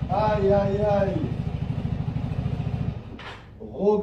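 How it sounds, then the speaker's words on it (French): A Vespa scooter engine idles with a steady low putter, heard beneath someone talking near the start and again at the end. "Regardez-moi ce super scooter Vespa, les gars."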